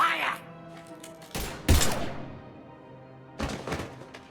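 Gunfire in the video game Mass Effect 3: a few heavy, booming shots in separate bursts, close and loud, with game voices and effects underneath.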